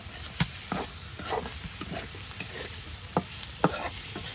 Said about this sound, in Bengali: এই যে এখন সুন্দর করে ডিমের সাথে সবকিছু আর ভালো করে ভেজে নেওয়া হবে।